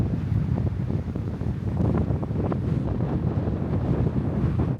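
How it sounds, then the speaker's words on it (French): Strong wind buffets the microphone on a kitesurfing beach in Mauritius, a steady loud roar with gusty rumble and possible surf beneath, continuous for the whole stretch with no voices. "En tout cas, il y a pas mal de vent."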